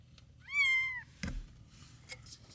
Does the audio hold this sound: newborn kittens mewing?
yes